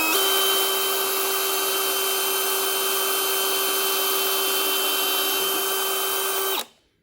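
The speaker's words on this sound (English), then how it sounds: "I'm going to come over here and drill another hole." A power drill boring a hole in wood, a loud close whine at a steady pitch that holds for several seconds before stopping abruptly.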